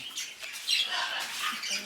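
Birds squawk and chirp in a backyard aviary, three metres long and two metres tall, with scattered short calls and some wing flutter at moderate distance.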